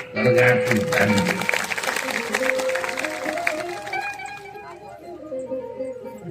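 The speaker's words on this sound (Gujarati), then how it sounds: "આશાપુરા માતાના અવસરમાં જેમણે તન મન અને ધનથી સેવા સત્કાર આપ્યો છે એ બધાને અંતરના હાચા ભાવથી તાળીના" Applause from a crowd at a religious satsang gathering, a burst of dense clapping that tapers over several seconds beneath a steady voice talking.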